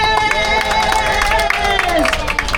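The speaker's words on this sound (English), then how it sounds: "Can we please get a big round of applause for our driver" A tour group aboard a Universal Hollywood studio tour bus claps and cheers for their driver, a dense, steady patter of hands with crowd murmur and music-like tones underneath, close and continuous.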